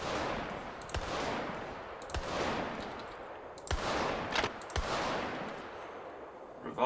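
Four sharp Glock 9mm pistol shots from a FiveM game sound pack, spaced about a second apart, each with a loud crack and a short reverberant tail.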